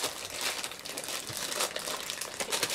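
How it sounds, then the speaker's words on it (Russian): Cellophane wrapping being pulled off Beats by Dr. Dre Solo HD headphones, a close, continuous crinkling and rustling of thin plastic at moderate volume with no talk. "Снимаем эту целлофановую упаковочку и раскладываем их"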